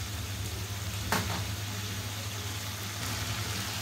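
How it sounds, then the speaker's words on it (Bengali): Malabar spinach stems sautéing in a pan, a steady close sizzle and frying hiss with an occasional stirring scrape. "এখন আমি সুন্দর করে কষিয়ে নিব।"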